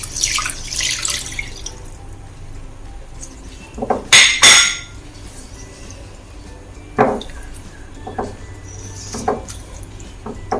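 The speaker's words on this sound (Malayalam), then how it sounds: "ഇതിലേക്ക് നമുക്ക് 2/2 പാൽ ഒഴിക്കാം." Kitchen sounds while second coconut milk is poured into an egg omelette curry: splashing liquid, metal clinks of a spoon or vessel, and a few sharp clatters at irregular moments, close by.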